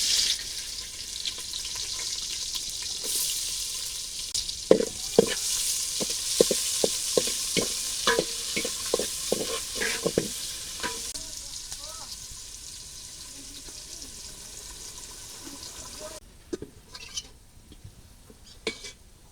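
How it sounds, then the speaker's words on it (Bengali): Sliced onions frying in oil in a cooking pot for pilau: a loud, dense sizzle with a run of rapid utensil clacks and scrapes in the middle, which fades to a softer hiss with scattered knocks near the end. "পাতিলে তেল দিয়ে দিলাম আগে কিছু বেরেস্তা করে উঠেই রাখুন আমি পিঁয়াজ দিয়ে দিলাম"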